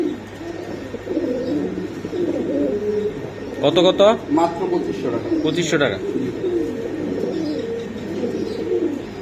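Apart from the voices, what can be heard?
pigeons cooing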